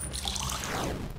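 A continuous pouring rush of water in a video game, brief and fairly loud, with a hissing, splashing texture and no one talking over it.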